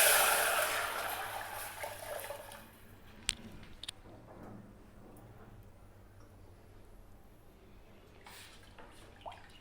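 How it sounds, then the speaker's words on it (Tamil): Betel leaf rasam poured into a hot tempering of browned urad dal, a broad splashing, sizzling rush loud at first and fading after a few seconds into faint drips and small clinks. "இப்போ இதில் நான் அந்த ரசத்தை ஊற்றுறேன்."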